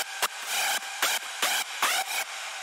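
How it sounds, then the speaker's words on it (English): A layered hardstyle synthesizer screech fires in five bright, harsh bursts with short gaps between them, loud and close, with no voice over it. "So the screech sounds like this,"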